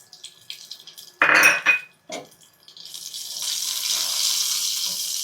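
Mustard seeds and cumin frying in hot oil for a home-made tomato chutney: a few clanks of a pan and utensils, then a steady, close crackling sizzle that fills the last couple of seconds.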